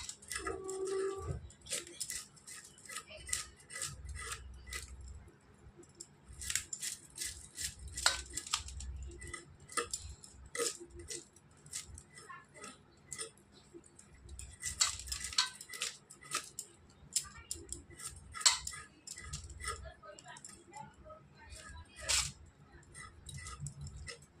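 Fish being cut by hand at close range, with scattered small knife scrapes, taps and wet clicks at an irregular pace, quiet, and no talking.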